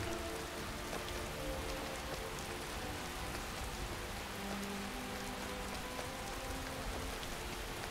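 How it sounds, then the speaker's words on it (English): Steady rain pours down evenly throughout in the video game Skyrim, a constant dense patter with no voices and a faint low hum underneath. "This rain doesn't look like it's going to let up anytime soon."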